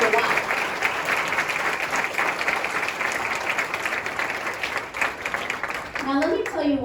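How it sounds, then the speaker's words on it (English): A room applauds honorees standing at a school board of education meeting, a long, steady wash of many hands clapping at even volume, with a voice breaking in near the end. "let's give everybody a round of applause"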